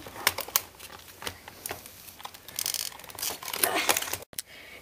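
Hard plastic packaging around a 10-port USB hub is pried open, making close, irregular cracking, crinkling and snapping noises in quick bursts, with a sharp pop near the end.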